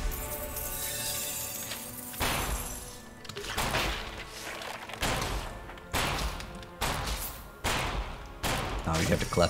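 A cannon weapon fires in the Torchlight 3 video game, loud booming blasts repeating roughly every one to two seconds with short rumbling tails between them.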